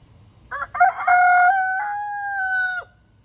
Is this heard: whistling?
no